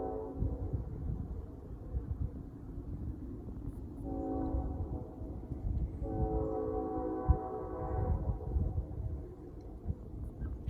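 A mixed freight train with two locomotives on the front and one in the middle rumbles past close by, wheels clattering on rails, with the horn sounding in two long blasts over the roar.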